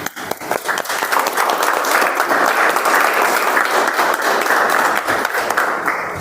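A Toastmasters club audience at a meeting bursts into sustained, dense applause, many hands clapping together at a steady loud level for several seconds, with no talking over it.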